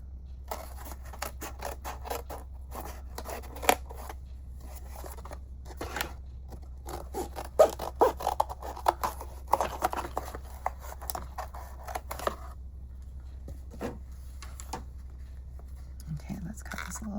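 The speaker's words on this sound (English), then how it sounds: "let me get my serrated scissors" Serrated scissors snipping and crunching through stiff material in short irregular bursts, close by, with soft handling noises between cuts.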